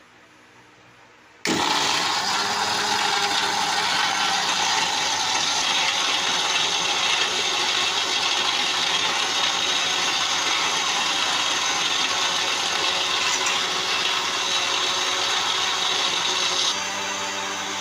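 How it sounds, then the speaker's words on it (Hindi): Blender grinding fresh mint with 7 Up for a mint margarita, a loud steady whirring roar that starts abruptly after a brief quiet lead-in and runs continuously near the mic, with no talking. "अब हम इसको ग्राइंड करना शुरू करते हैं। 3 से 4 मिनट के लिए इसको ग्राइंड करेंगे।"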